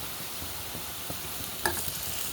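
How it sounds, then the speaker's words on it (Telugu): Dumplings fry in a pan over a low flame with a soft, steady sizzle, marked by a single sharp utensil clink toward the end. "ఇలా మనము హైలో కాకుండా సిమ్లో పెట్టుకుని వేయించుకోవాలి"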